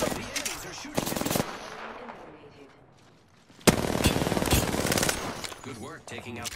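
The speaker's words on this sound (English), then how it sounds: "The enemies are shooting at me." Video game gunfire from a squad firefight, with bursts of rapid automatic shots, a quieter lull, then a long loud stretch of sustained fire, with game voices speaking amid the shooting.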